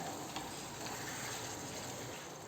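Chicken gravy being stirred continuously in a pan over medium heat, a steady soft sizzle with faint scraping, constant and fairly quiet with no talking.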